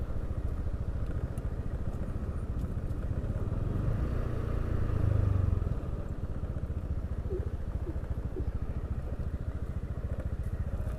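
A motorcycle engine idles in a continuous low rumble at close range, swelling briefly near the middle and then settling back to a steady putter.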